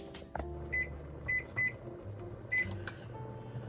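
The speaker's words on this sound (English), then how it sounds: "We're gonna stick it in the microwave." A microwave oven cooking bacon gives a steady low mechanical hum throughout, with several short electronic beeps scattered over it, close and moderately quiet.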